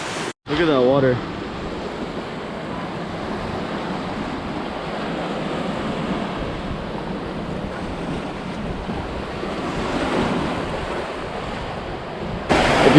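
Continuous roar of ocean surf on a Hawaiian surfing beach, mixed with heavy wind buffeting the microphone, with a brief voice at the start.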